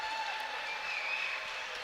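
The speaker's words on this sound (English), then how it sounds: "Round of applause for both of these teams here tonight" A gym crowd applauds and cheers after a close high school boys basketball game between Neillsville and Auburndale, a steady, moderately distant wash of clapping with faint whistles, holding evenly throughout.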